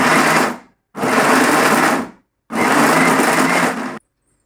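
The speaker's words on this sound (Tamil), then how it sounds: "கொஞ்சம் கொஞ்சமாக போட்டு அரைங்க. கொஞ்சம் அடித்து மிக்ஸ் பண்ணதுக்கப்புறம் திரும்பி நமக்கு இருக்கிற மீதி மட்டனை போட்டு அடிச்சுக்கலாம்." Mixer grinder grinding mutton in three loud, near bursts of whirring motor roar, each running about a second with short silent pauses between them.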